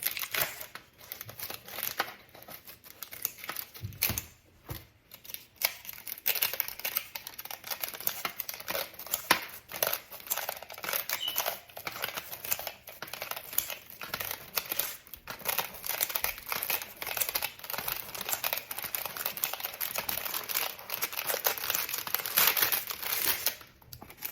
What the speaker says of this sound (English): I usually use kitchen scissors when I do this